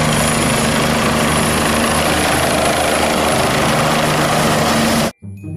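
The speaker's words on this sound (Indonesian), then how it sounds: "Helikopter." Toy helicopter noise: a loud, steady whirring rotor drone with a constant hum, running unbroken before cutting off abruptly near the end, with no voices.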